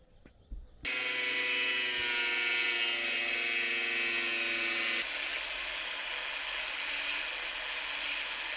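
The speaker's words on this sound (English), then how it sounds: "So I'm gonna just cut this with a grinder." An angle grinder cutting into a metal VESA mounting plate, a loud high-pitched whine with a shrill, sustained grinding tone that drops to a lower, rougher pitch partway through, preceded by a short thump as it starts.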